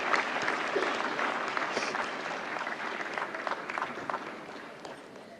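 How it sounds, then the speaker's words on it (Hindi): A large crowd at a national film awards ceremony applauds steadily to welcome the Gangubai Kathiawadi team, a dense wash of clapping that holds loud throughout and eases only slightly toward the end. "जोरदार तालियों से स्वागत करें गंगूबाई काठियावाड़ी की टीम का।"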